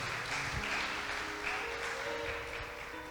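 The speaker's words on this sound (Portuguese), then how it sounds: "Dê uma salva de palmas ao Senhor." A congregation at a church service applauds steadily for a few seconds, a dense wash of clapping at moderate distance.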